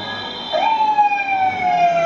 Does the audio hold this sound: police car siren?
yes